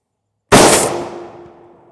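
A single .50 BMG M33 rifle round strikes an NIJ Level IV armor plate with one sharp, loud, close crack, followed by a ringing metallic tone that decays slowly over about a second and a half.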